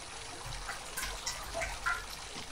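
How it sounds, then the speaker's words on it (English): Soft water trickles and splashes close by in a small fountain, quiet and gentle, with a few faint droplet plinks over the steady flow. "I'm in my own fountain."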